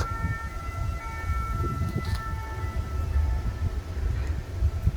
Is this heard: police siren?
yes